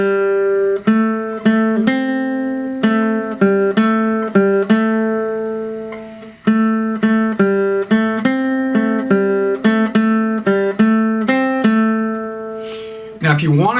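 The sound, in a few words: guitar playing a blues lick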